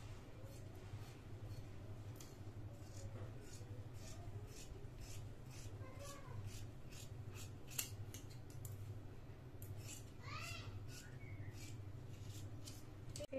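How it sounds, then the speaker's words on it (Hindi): Scissors snipping through kurti fabric along a marked line, a series of short crisp cuts and rustles over a steady low hum, with faint background chirps. "और अब हम कटिंग कर देंगे"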